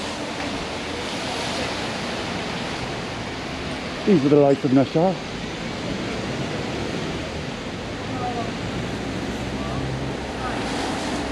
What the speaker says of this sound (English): You can probably hear the splashing of the cars.